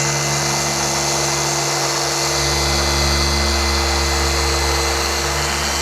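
A rotary polisher buffs the paint on a Shelby GT350, its steady motor drone running loud and continuous throughout, with a low hum shifting slightly as the pad sweeps along curved body panels.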